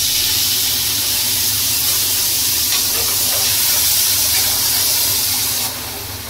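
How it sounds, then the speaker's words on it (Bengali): Water poured into a hot pan of pumpkin chokka erupts into a loud, sustained hiss and sizzle of steam, close and unbroken, dropping away abruptly at the end. "তারপর এখন একটু জল ঢেলে দেবো।"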